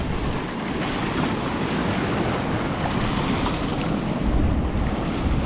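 Waves break and wash over a stony beach in the Dominican Republic, a continuous broad rushing roar mixed with wind buffeting the microphone. It grows a little louder near the end. No voices.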